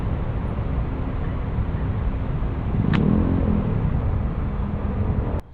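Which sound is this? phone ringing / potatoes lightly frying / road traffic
road traffic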